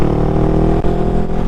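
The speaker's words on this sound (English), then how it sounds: "That's the Lextech exhaust." A 2019 Honda Rebel 500 fitted with a Lextech aftermarket exhaust runs nearby, its deep, loud, even engine note holding steady with only a brief dip partway through.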